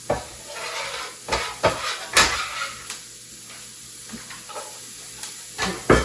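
Onions or aromatics sauté in a pan for a sweet meetha dal, a soft steady sizzle and hiss broken by several sharp stirring scrapes and clatters, close and fairly loud.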